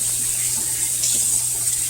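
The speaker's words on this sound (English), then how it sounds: "I'm going to run cold water over them" A steady hiss of cold tap water runs continuously over freshly boiled eggs in a kitchen sink, close and even throughout with no voices.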